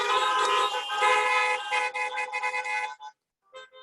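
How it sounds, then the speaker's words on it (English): Car horns honk together in a sustained blaring chorus for a few seconds, then cut off, followed by a couple of short toots. "Give all of our new members a big horn honk there."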